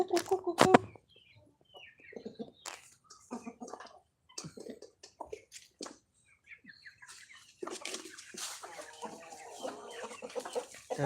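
Hens cluck and squawk in short, scattered bursts close by, with some rustling and a few flapping sounds between quieter pauses.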